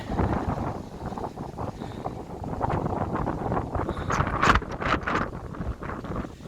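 Strong wind buffets the microphone in a continuous roar, with rumbling gusts and some rustling, loud and close throughout.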